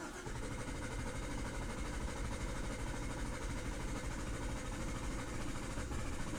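The engine of a 2017 GMC Sierra with a no-start fault cranks in a steady, continuous mechanical whir that drones on evenly for several seconds, fairly close, with no clear catch.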